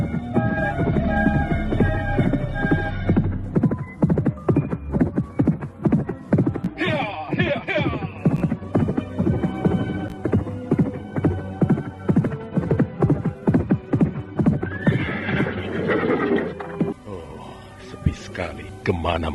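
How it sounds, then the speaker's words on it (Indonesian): A black horse gallops hard, its rapid clip-clop hoofbeats loud and rhythmic throughout, with a whinny breaking through under dramatic music and a humming background. "Kuda berwarna hitam itu berderap kencang ke utara menuju ke kaki Gunung Penanggungan."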